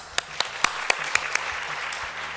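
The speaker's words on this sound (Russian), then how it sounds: "Оля, аплодисменты тебе." At a company's annual awards meeting, a handful of sharp, evenly spaced claps ring out one after another at a steady rhythm, distinct and nearby, trailing off after about two seconds over a quiet room hum.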